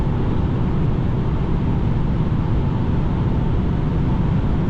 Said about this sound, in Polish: Dobra, i teraz decha.